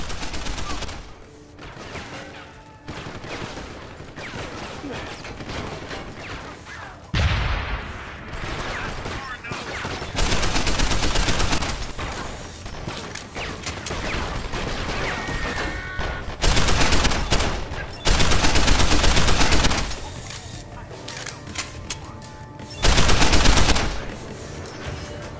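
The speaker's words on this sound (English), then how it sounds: "An upgrade on our combat rifle allows our bullets to curve and seek targeted enemies." A combat rifle fires in Deus Ex: Human Revolution Director's Cut on Wii U, with loud sustained bursts of automatic fire separated by quieter stretches of game sound and an occasional voice.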